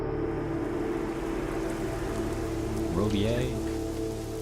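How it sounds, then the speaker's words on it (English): Steady rain falls in the video game Submerged, a constant hiss of drops on surfaces heard beneath a man's brief spoken question and some tonal game sounds. "it's raining again"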